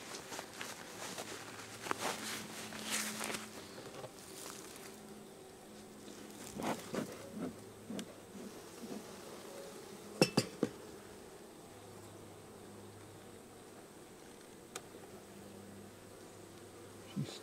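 Honey bees buzz softly and steadily in a hive, a faint low hum close by, with intermittent light knocks and handling clatter as someone works the hive, no voices.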